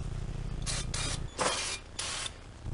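Brake cleaner sprays onto a car's brake assembly during a wheel cylinder replacement: a few sharp aerosol hisses in short bursts, close and loud over a low background hum.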